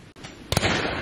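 A shotgun fires at pheasants during a shoot on Exmoor, one sharp blast landing about halfway through, followed by a fading outdoor tail.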